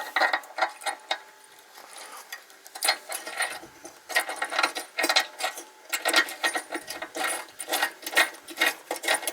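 Plates being screwed into the back of a homemade sheet metal brake, close ratcheting and clicking bursts from a screwdriver turning screws, uneven in rhythm, with no talking.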